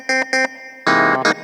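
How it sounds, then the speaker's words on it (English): A Roland VR-730 keyboard plays its clav 2 patch through effects: two short staccato stabs, then a longer sustained chord and a final short hit, bright and loud with a phased, distorted edge. "let's go ahead and use this clav 2."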